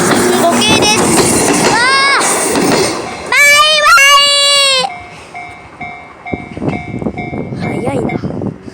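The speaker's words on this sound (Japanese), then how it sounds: "この列車は105系です。" A JR Kuha 105 series local train rumbles loudly past a level crossing close by, with bright tonal warning sounds ringing over it and a person talking in between.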